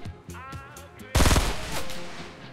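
Rifle fire in Fortnite, a loud close burst of rapid shots crashing in after a quieter stretch of game sounds, then fading into a lingering rumble.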